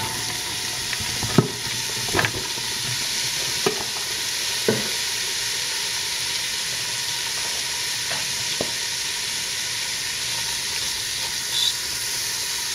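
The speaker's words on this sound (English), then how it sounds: "the butter's nearly completely melted now, so we'll add our onions and red pepper" Chopped onions and red pepper sizzle steadily in melted butter in a pan for a prawn korma, a constant close hiss with a few soft stirring clicks and no voices.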